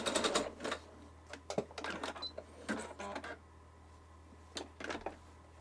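A sewing machine with a faulty bobbin case stitches a zigzag in short whirring bursts, stopping and restarting several times, fairly close with a steady low hum underneath and no talking.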